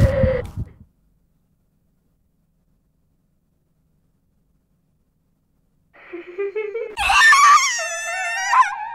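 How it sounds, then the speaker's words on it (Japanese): In the horror video game Spirit Hunter: Death Mark, a woman's scream rises after a long silence into a shrill, wavering wail that holds for a couple of seconds. A brief noisy burst sounds at the very start. "すずの凄まじい悲鳴が受話器と僕の音と両方から聞こえた"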